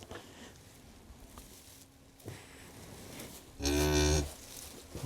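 A calf tended by a vet at a mountain-village farm in Korea gives one loud, close moo lasting under a second, standing out from quiet rustling and background noise.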